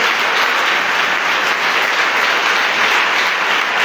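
A church congregation claps and cheers in dense, loud, continuous applause that fills the room evenly throughout.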